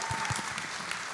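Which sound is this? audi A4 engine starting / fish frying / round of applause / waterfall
round of applause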